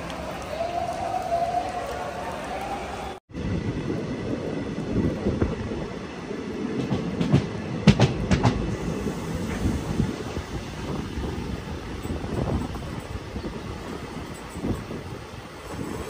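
The Poorna Express rumbles steadily through a railway station in Karnataka amid rain, with occasional clanks and a sharp thud early on, continuing at moderate volume.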